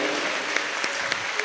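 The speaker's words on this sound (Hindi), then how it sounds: "हम सब तालियों की गड़गड़ाहट कर रहे हैं।" An audience claps together at a gathering honouring a spiritual teacher, producing a dense, continuous patter of applause with a few sharper individual claps standing out.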